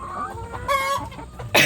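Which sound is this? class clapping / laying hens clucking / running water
laying hens clucking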